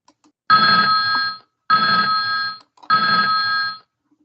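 Phone ringing loudly and close: three long electronic rings with short silent gaps between them, no talk.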